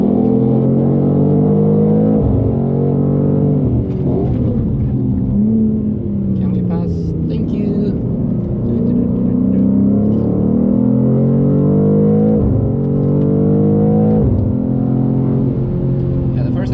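A rear-wheel-drive BMW G87 M2 pulling hard on the Nürburgring, its engine note rising through the revs, dropping at each gear change and climbing again, loud and close from inside the car under a steady road rumble.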